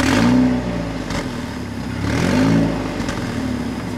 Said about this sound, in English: Here, I'm gonna rev it.